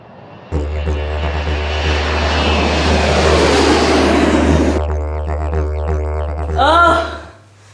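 An airplane engine roars up steadily for a takeoff sound effect, loud and sustained with a rising whine, then cuts off abruptly and is followed by a short swooshing sound.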